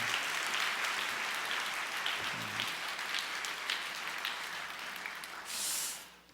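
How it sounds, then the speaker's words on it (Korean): Church audience applauding a choir at a Thanksgiving concert, steady broadband clapping filling the hall for the whole stretch, with a brief low murmur partway through and a rise near the end. "우리 합창단 정말 우리 한번 박수해 주시기 바랍니다"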